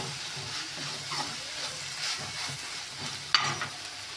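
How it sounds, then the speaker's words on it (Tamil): Mutton stirred in a pan with turmeric and rock salt, giving a steady soft sizzle with faint scraping stirs throughout and one sharper clink near the end, recorded close with no speech. "அதை சேர்த்துட்டு வதக்கிக்கலாம்."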